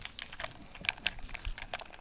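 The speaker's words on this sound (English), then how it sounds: "every single button right now. I don't know if you can hear." Buttons on a computer keyboard clicked in quick, uneven bursts of sharp taps, close and fairly loud, with a few louder isolated clicks standing out.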